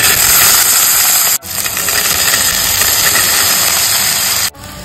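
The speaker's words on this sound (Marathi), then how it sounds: "तर आता आपलं हे परतवून झालेलं आहे फोडणीत घालून." Raw banana slices sauté in a loud cumin and green chilli tempering, a dense continuous sizzling hiss that cuts out briefly twice.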